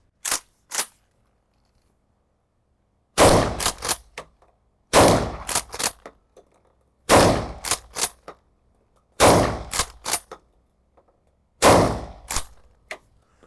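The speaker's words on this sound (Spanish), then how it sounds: "Recargamos, olvidé el seguro y disparamos de nuevo." A Hatsan Escort pump-action shotgun being reloaded and fired: a pair of crisp mechanical clicks, then five loud blasts spaced a couple of seconds apart, each trailed by quick racking clacks in an otherwise quiet setting.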